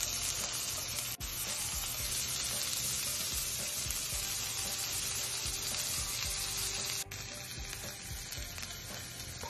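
Asparagus frying in a hot pan, a loud, continuous close-up sizzle with occasional stirring scrapes and small pops, steady throughout with two brief dips.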